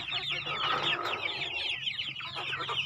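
Broiler chickens and young chicks cluck and cheep together, a busy overlapping chorus of short high peeps and clucks close by, continuous for the whole moment.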